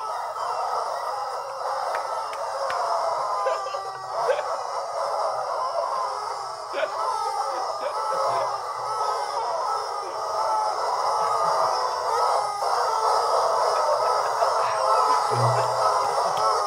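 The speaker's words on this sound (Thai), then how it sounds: "บีบไก่ขันเฉลิมฉลองให้คิงหน่อยครับ" Squeezed rubber toy chicken crowing in celebration during a live game show, a continuous loud squawking wail that runs without pause over a steady noisy room.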